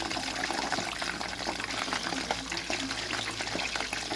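Crispy pork belly slowly frying in oil over low heat, giving a steady close sizzle with dense crackle and faint bubbling that holds even and unbroken throughout, with no talk over it.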